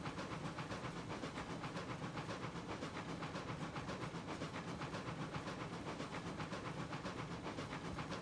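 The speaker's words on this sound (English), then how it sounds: "you can hear from the sound of the locomotive that it's died back just a little bit" Steam locomotive in Railroads Online rounding a tight curve, with a steady, dense chuffing and hissing that rolls on evenly throughout, no talk over it.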